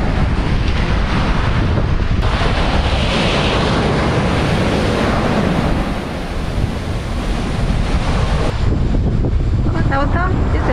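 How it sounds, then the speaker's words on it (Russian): Waves breaking on an empty beach under heavy wind buffeting the microphone, loud and continuous surf roar throughout. "Вот так вот выглядит пляж."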